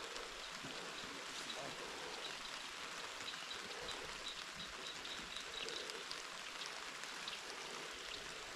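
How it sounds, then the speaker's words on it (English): Light rain falls around a pond while bank fishing for bass, a soft, constant hiss of drops on water and foliage, steady and even throughout with faint background chirps. "Starting to rain so far, but it's not that hard"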